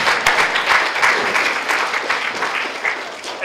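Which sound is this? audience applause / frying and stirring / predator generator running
audience applause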